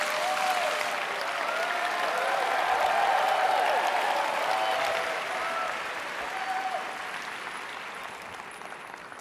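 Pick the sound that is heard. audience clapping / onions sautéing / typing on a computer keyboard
audience clapping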